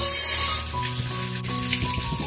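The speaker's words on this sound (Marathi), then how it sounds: "ते मोहरी टाकून घेते." Mustard seeds dropped into hot oil for Diwali poha chivda sizzle loudly and steadily, with crackling pops rising partway through.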